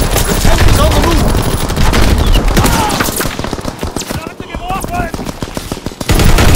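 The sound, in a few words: MG15 machine gun firing in Call of Duty WW2 video game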